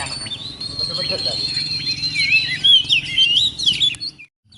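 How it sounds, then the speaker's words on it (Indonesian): A caged oriental magpie-robin (kacer) in breeding condition sings a continuous stream of high, warbling whistles and chirps, close and fairly loud over a low background hum, ending abruptly. "Nah itu kaceran ya, seperti itu."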